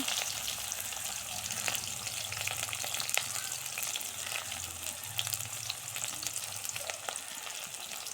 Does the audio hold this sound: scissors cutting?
no